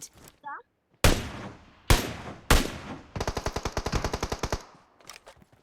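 Gunfire in PUBG Mobile as an enemy is shot. Three loud single shots come about half a second apart, then a rapid burst of around fifteen evenly spaced rounds, and a few fainter shots trail off at the end.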